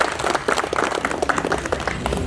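Applause from villagers at a youth organisation's gathering, a short burst of crowded clapping, close and fairly loud, with a faint voice or tone running underneath.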